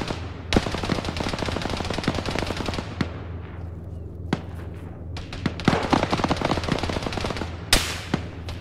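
Rapid machine gun bursts and scattered gunshots from an Arma 3 firefight ring out loud and close, with sharp cracks repeating in uneven volleys across the whole stretch and no talking.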